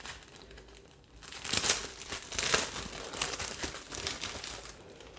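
Crinkly plastic packaging is torn and crumpled off a hardbound Raj Comics Nagraj collector's edition, with close rustling bursts that swell and fade over several seconds.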